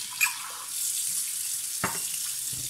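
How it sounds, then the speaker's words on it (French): Hot water pouring from a tap into a kitchen sink while clearing a clogged drain, a steady close hiss of running water that continues throughout, with a couple of faint knocks. "vous mettez un peu d'eau chaude"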